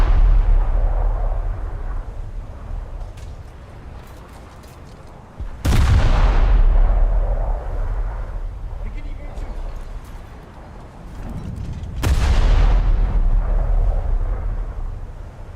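Ship guns fire in a naval video game, with two heavy booming salvos spaced several seconds apart, each loud and sharp before rumbling away, while someone talks throughout.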